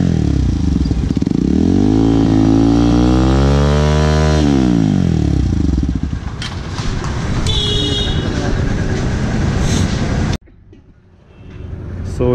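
A Hero Xpulse 200 motorcycle fitted with an aftermarket exhaust, its dB killer removed, revs loud and close, rising and falling in pitch through several throttle blips before it drops to a low idle, with voices heard over it.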